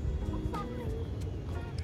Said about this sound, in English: Our zoo has several crossbreeds of hen.